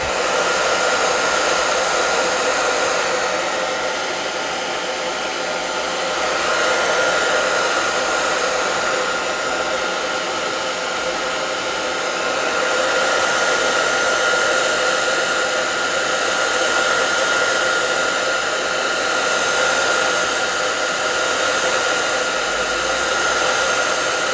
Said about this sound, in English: I'm just gonna use the hairdryer now